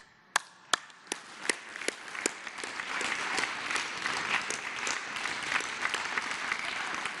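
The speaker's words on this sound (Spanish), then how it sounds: "Un aplauso." Applause from an audience at a morning press conference starts with a few sharp separate claps, then swells into steady, dense clapping that fills the room for several seconds.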